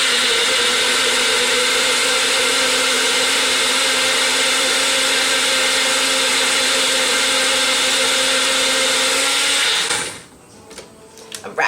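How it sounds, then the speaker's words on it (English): A blender whirs loudly as it purées bananas for gluten-free vegan pancake batter, a steady high motor whine running for about ten seconds before cutting off, followed by a few quiet clunks and handling noises. "we're just going to blend that up with the bananas real quick"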